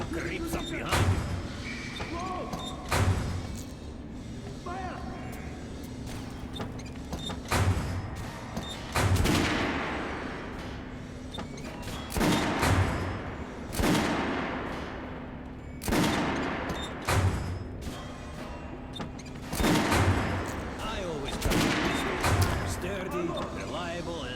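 Guns fired on a shooting range in Metro Last Light, loud sharp shots ringing out at irregular intervals, some in quick clusters, with a steady hum and occasional talk between them.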